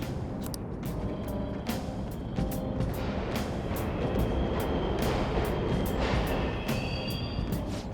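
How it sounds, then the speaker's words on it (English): Subway trains rumble through an underground tunnel in Persona 5 Royal's Mementos, a steady, loud rolling roar with rattling clatter and brief sharp transients throughout, no voices. "The trains are totally running!"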